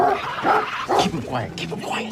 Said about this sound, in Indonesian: karena suara gonggongan itulah penyebab makhluk pes itu datang